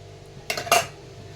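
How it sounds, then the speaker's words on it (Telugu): Chicken pakoda batter of rice flour, cornflour and gram flour mixed in a bowl, heard as two short clinks of a spoon against the bowl, close and clear in an otherwise quiet kitchen. "ఇలా అంతా బాగా కలుపుకోవాలి."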